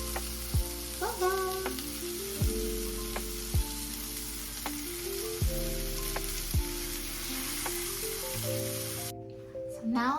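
Japanese chicken tsukune meatballs frying in a pan, a soft steady sizzle under a background music bed with a few sharp clicks, the frying fading out near the end.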